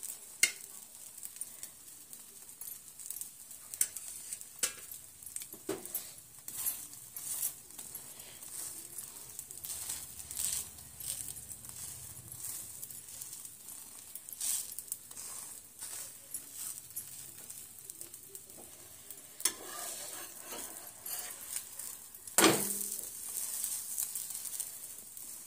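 Aloo paratha sizzles in oil on a pan, a steady soft crackle and hiss with occasional sharper pops and scraping clinks of a utensil throughout.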